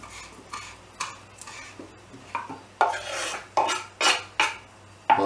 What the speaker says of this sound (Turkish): Maydanozları kıyalım.